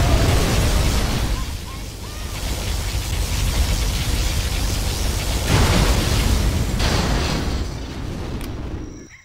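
Particle cannon blast in C&C Generals Zero Hour: a loud, sustained roaring rumble of explosive energy that swells and surges for several seconds, then fades near the end.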